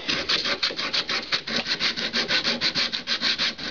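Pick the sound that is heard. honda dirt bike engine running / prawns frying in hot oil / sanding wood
sanding wood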